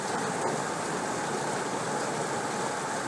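Torrential monsoon rain falls on flooded streets, a dense, constant roaring wash at close range, alone and unchanging.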